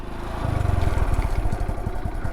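A motorcycle engine idles close by with a low, thumping rumble that steadies as the clutch is released slowly, holding an even throttle.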